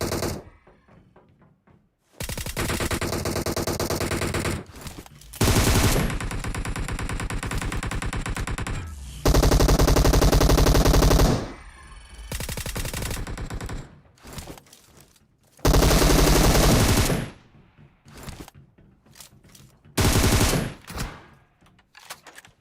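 Bursts of automatic gunfire from the mobile battle-royale game PUBG Mobile, in several loud, dense volleys separated by quieter gaps, with rapid repeated shots in each burst.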